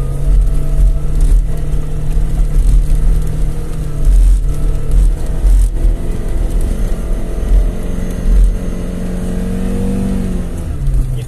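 A Lada Niva engine revs hard in low-range first gear while climbing a snowy hill, holding a loud, steady high-rev drone at about 4500 rpm with slight dips and surges throughout.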